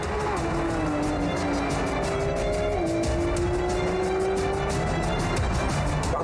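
Porsche 911 GT3 RS driven hard on a race track, its engine note loud and continuous, pitch stepping up and dropping through gear changes, with faint tire noise beneath.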